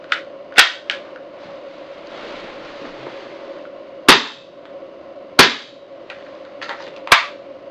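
A Tokyo Marui Glock 17 airsoft pistol fires several sharp, crisp cracks spaced irregularly, with a couple of softer clicks between them, over a low steady background hum.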